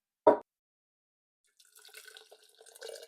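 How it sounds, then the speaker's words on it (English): Water is poured into a 32-ounce mason jar, starting with one sharp splash and then a quieter, uneven trickle and gurgle as it fills. "add water to the mason jar"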